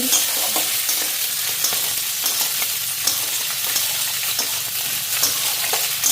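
Beans for veg chowmein frying in a pan, a loud constant sizzle broken by repeated scraping and clattering as they are stirred, with no voices.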